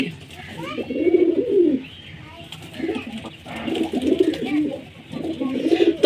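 Pigeons kept as pets coo in close, repeated low rolling phrases, several bursts in a row, loud and near with a faint background murmur.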